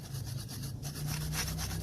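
Steady abrasive scrubbing of rust and grit off a Honda Accord rear brake part, a continuous rasping rub at close range, fairly quiet and without talk.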